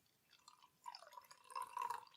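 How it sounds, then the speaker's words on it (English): Saltaire Triple Choc Stout, a dark beer, glugs into a goblet glass: faint liquid gurgling at first, then a fuller, bubbling pour that grows louder near the end. "It's pouring with a bit of conviction."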